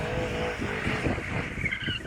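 A Mercedes-AMG E63 in rear-wheel-drive mode drifts with a loud, continuous engine roar and rough tyre squeal and skid noise throughout, close and sustained.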